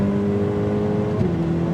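A Ferrari 488 Pista supercar engine holds a loud, steady droning tone with a slight pitch shift partway through, heard from inside the cabin with no talking.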